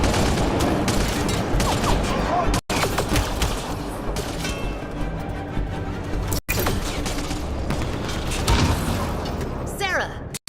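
Sustained gunfire in Mass Effect Andromeda, with dense rapid bursts and booms filling a chaotic firefight, loud and continuous, with shouting voices mixed in.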